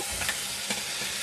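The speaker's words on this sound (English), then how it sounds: "Stir fry for 3 minutes and then it's done." Mushrooms and shrimp sizzle in a hot pan while they are stir-fried, with a steady frying hiss and a few soft scrapes of stirring over it.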